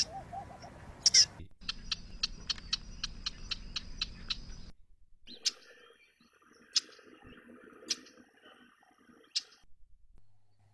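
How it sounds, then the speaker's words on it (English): Chuck calls of migratory warblers such as the common chiffchaff in the Western Ghats, a quick series of sharp repeated clicks at first, then sparser single chucks spaced a second or so apart, faint and fairly close. "The chucking is a fusion of sounds produced by four of five species of migratory warblers"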